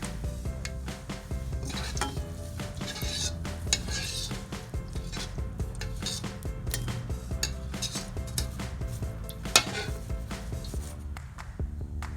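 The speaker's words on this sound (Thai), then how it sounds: "แล้วก็นำมาทอดน้ำมันเดิมค่ะ" Kaffir lime leaves sizzle steadily in oil while utensils scrape and clink against a pan, with busy kitchen clatter throughout.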